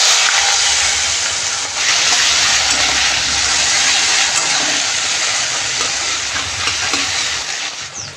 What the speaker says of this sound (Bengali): এই তেলেই আমি একটুখানি এখন জিরা ফোড়ন দিচ্ছি, আর দিয়ে দেবো যে পেঁয়াজটা কুচিয়ে রেখেছিলাম এটা।